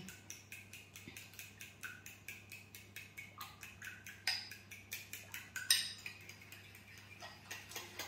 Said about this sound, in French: on va battre un petit peu tout ça pour faire un petit mélange